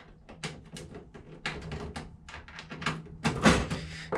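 A metal toolbox drawer in a mobile mechanic's kit slides and clunks open, a series of close rattling knocks and thuds building to a louder bang near the end.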